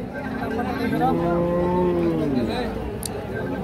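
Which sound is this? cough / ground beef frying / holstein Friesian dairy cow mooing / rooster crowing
holstein Friesian dairy cow mooing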